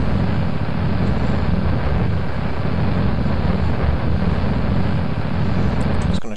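Rocket engine burning oxidizer in Kerbal Space Program, a steady, loud broadband roar with a deep rumbling low end that holds unbroken for several seconds before cutting off abruptly at the end.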